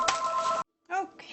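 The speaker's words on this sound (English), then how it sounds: "We were interrupted by a phone call." A telephone rings with an incoming call, interrupting a home bean-canning session; two bursts of electronic ringing are separated by a short silence, the second burst starting faintly.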